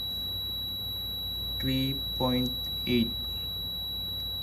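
A multimeter on its continuity buzzer setting emits a steady high-pitched tone while testing the windings of an air conditioning compressor, running unbroken beneath a few short spoken words.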